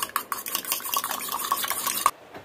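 Beaten egg with finely chopped vegetables, salt and pepper stirred briskly in a bowl, a steady run of close, quick utensil scrapes and taps against the sides for about two seconds before stopping.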